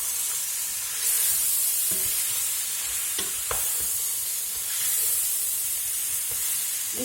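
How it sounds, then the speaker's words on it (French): Vegetables cooking in a pot on a stove hiss steadily with steam, broken by a few spoon scrapes and clicks. "Moi, ça va aller sur mon poêle et ça va mijoter tout seul."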